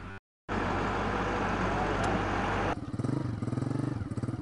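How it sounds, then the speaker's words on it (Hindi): A Massey Ferguson 385 tractor drives a 52-blade rotavator preparing farmland, a loud, steady engine drone with heavy churning that shifts into a pulsing, rhythmic throb near the end; briefly silent at the start. "मेरे पिछे ट्रैक्टर असं चला रहे हैं, रोटावाटर यानी कि अस जमीन तैयार कर रहे हैं"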